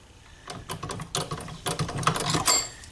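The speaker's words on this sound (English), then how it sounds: "you cycle the machine, pump it a couple of times, and that feeds out thread" A leather sewing machine is cycled and pumped a couple of times to feed out thread, giving a short burst of close, rapid mechanical clatter and ticking that grows louder toward the end.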